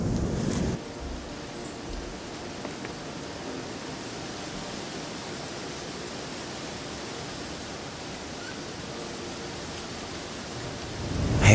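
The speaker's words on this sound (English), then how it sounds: "I absolutely love these conditions too, because for one, when it's really, really windy" Steady, strong wind roars across the microphone throughout, a continuous broadband rush with no voices.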